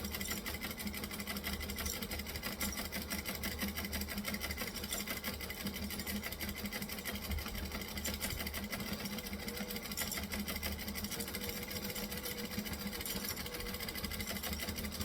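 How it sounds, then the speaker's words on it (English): A sewing machine runs steadily as it slowly top-stitches around the edge of a fabric piece. The mechanical whir and rapid needle chatter are continuous, fairly faint and close, with no talk. "So I'm going to top stitch slowly around this edge."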